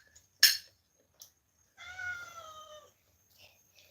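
A cat meows once in a drawn-out, wavering call near the middle, preceded by a sharp clink and a few faint knocks, with no talk.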